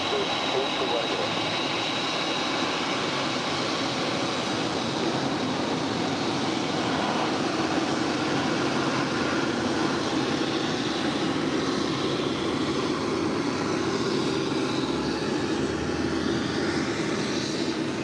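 An airliner takes off on runway 25 left at LAX with a steady, far-off engine roar, while radio voices talk over it throughout.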